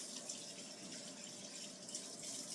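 A kitchen tap runs steadily as hands are rinsed under it, a soft continuous splashing hiss, fairly quiet and unbroken.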